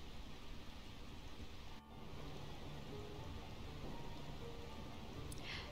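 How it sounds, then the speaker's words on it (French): Steady rain pours down in a Final Fantasy IX game scene, a dense, even hiss of falling water that stays constant throughout, with no talking. "Cette pluie n'est-elle pas fantastique?"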